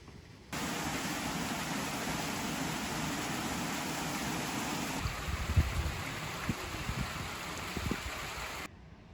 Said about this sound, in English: if you listen in the background, you can faintly hear the sound of the water